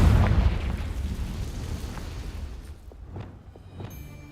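A Confringo blasting spell explodes in the Hogwarts Legacy game: a loud, deep boom right at the start, rumbling and fading over a few seconds, followed by scattered faint pops and clicks.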